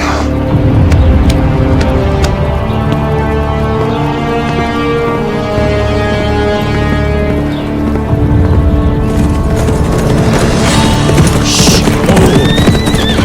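Minecraft horses neighing and clip-clopping, loud and steady for the whole stretch, layered with other busy game sounds and a brighter burst near the end.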